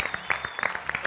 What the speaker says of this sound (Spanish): Fuerte aplauso para Marcelo